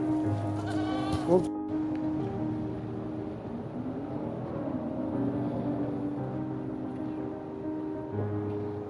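Sheep bleat repeatedly at a farm setting in Plymouth, their wavering calls overlapping near and far across a busy ambient background with a brief clatter early on.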